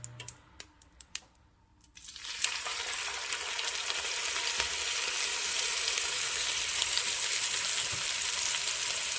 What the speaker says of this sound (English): Then we just want to get a nice sear on both sides.